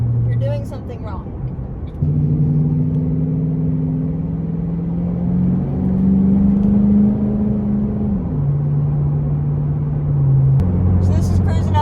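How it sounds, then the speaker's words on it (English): A car fitted with a Roush Extreme axle-back exhaust cruises steadily at 48 mph with the windows up, giving a low, continuous droning hum that holds at a near-constant pitch with slight shifts. "So this is cruising down the road, 48 miles an hour, windows up."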